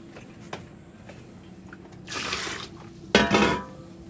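Water poured into a pot for boiling pine cones, two short splashy bursts of filling, the second louder and closer, over quiet kitchen background with a faint clink.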